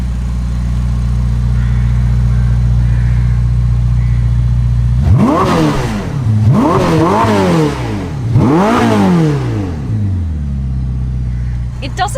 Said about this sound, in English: So what does the most powerful Ferrari sound like?